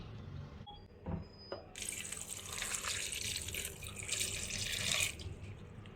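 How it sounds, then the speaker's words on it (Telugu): Water pours into a pressure cooker of mutton, a bright, rushing splash that begins after a few faint clinks and then flows steadily and fairly close for about four seconds. "ఇప్పుడు దీంట్లో వాటర్ వేసుకుంటున్నాను."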